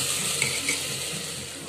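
Onion, cumin seeds and potato sizzle steadily in hot refined oil as they are stirred for a green chickpea curry, a dense continuous crackle heard close up with no talking.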